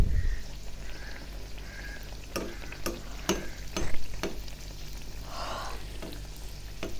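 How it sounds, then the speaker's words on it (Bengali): Green pea kachori frying in a pan of oil, a soft continuous sizzle with occasional crackles and light taps of a utensil, close and moderately quiet with no talk. "তো এই যে দেখুন এখন সবগুলো এইভাবে ভেজে নেব।"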